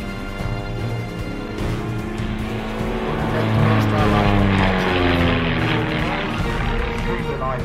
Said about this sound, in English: Very similar to extra 300s, that genre of aeroplanes.